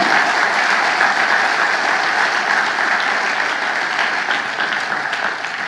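Sustained applause from a church congregation fills the whole stretch, dense and steady, easing slightly toward the end, with no voices standing out.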